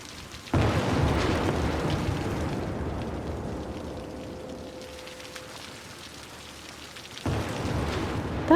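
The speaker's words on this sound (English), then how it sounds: "That is some loud thunder." A rumbling rain and thunder storm in the Cities: Skylines city-building game, with loud broadband thunder rolling in and then easing off, a quieter stretch of steady rain in the middle, and a second heavy roll near the end.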